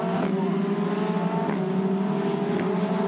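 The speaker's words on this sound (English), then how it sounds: "Matus trying to get through past Zane Goddard in car number 93." Formula Renault Eurocup race cars lapping Nürburgring in 2017, a loud, steady high-revving engine drone with layered tones from several cars running close together.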